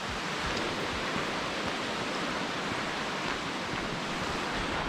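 Aber Falls waterfall in Wales, together with its river, makes a continuous dense roar of rushing water that stays even and loud throughout, with no voices.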